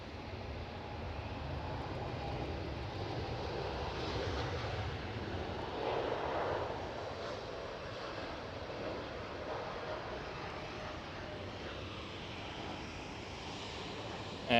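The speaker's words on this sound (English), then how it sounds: "KLM 787 departure" A KLM Boeing 787 departs from Amsterdam Schiphol airport, its jet engines a steady, broad distant roar that holds level for about fifteen seconds with no voices over it.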